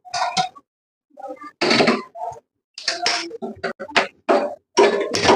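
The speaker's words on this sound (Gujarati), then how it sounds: "ગેસ ચાલુ કરી પેન મૂકી દીધું છે." A pan set down on a gas stove while tempering dal for dal bati gives a series of sharp metallic clanks and knocks, close and fairly loud, with brief silent gaps between them.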